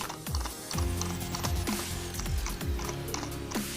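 A tablet and mobile phone stand is loosened and adjusted with repeated ratcheting clicks and short mechanical clunks in an uneven rhythm, close and fairly loud, with no talking.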